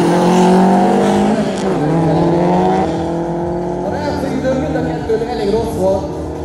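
Two Subaru Impreza WRX STI cars in a drag race, steady loud engine roar with shifting tones as they accelerate and pass, with a commentator talking throughout.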